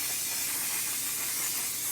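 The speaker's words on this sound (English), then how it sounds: "I will take the best setting spray of all time, the One Size Until Dawn setting spray." One Size Until Dawn makeup setting spray hisses in a continuous, even mist burst held close, filling the whole stretch with a steady airy spray and no voices.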